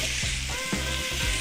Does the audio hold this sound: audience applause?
no